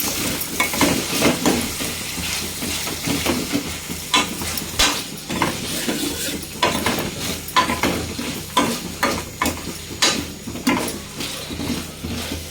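A horse gram flour mixture, Andhra-style ulava kattu, stirred in a pan, with rapid, irregular scraping and clinking strokes of a utensil against metal, close and lively, over a faint sizzle.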